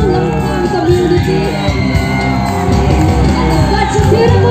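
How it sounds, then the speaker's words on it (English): A loud, close crowd shouts and whoops in a continuous roar of cheering at the Lui-Ngai-Ni Naga tribal festival in Manipur, with scattered yells rising above the mass of voices. "big round of applause for the beautiful Lampang community."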